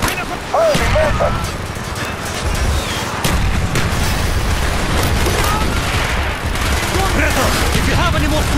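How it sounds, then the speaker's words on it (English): In the WWII video game Project Nova, mortar fire and explosions boom out as a dense, rumbling barrage of heavy blasts. Shouted voices come in and out over it. "Firing mortar!"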